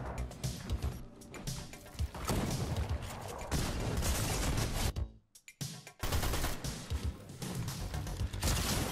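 Gunfire in the video game Fortnite, with rapid bursts and repeated shots packed tightly together, loud and dense with a brief lull in the middle, no talking.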